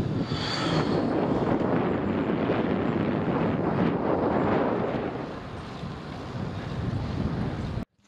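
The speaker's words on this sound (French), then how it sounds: "Par contre je me tape un vent de face de ouf." Strong headwind buffets the microphone in a steady low roar while travelling from Paris to Angers in December, loud and continuous, easing slightly near the end before cutting off.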